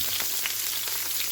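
Chopped onions fry in half a cup of oil in a pan for beef pulao, giving a brief, steady, dense sizzle with small crackles and no talking.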